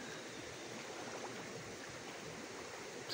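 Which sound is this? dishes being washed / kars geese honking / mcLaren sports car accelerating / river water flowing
river water flowing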